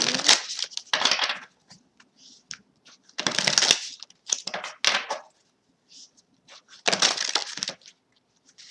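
Tarot cards being shuffled for a reading, close and crisp, in three main bursts of riffling with scattered short card flicks and taps between them, no voices.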